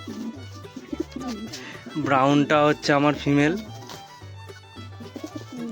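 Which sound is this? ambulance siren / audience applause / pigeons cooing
pigeons cooing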